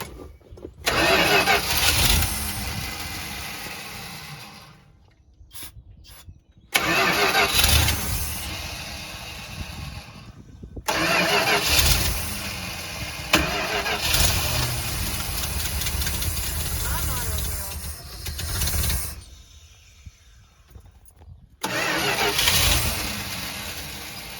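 A 1973 Dodge Sportsman camper's engine cranks over and over, trying to start. The long loud stretches of grinding starter noise are broken by short pauses.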